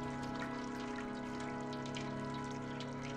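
A cat lapping water in the video game Stray, soft rapid wet trickling and dripping over a steady humming game soundtrack, with no talk.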